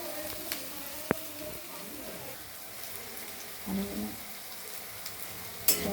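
Onions frying in a pan for chicken curry give a steady, moderate sizzle throughout, with a few brief clinks and sharper scraping bursts along the way.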